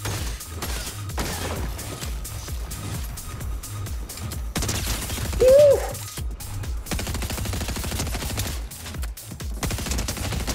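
Rapid bursts of twin mag SMG fire in Fortnite crackle in quick, repeated volleys, close and steady throughout, with a louder flare near the middle and faint game sounds underneath.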